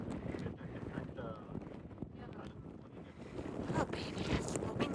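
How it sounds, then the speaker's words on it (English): Gusty wind buffets the microphone in low rumbling bursts atop Hump Mountain on the Appalachian Trail, growing stronger toward the end, with a voice faintly audible underneath. "it's a little windy"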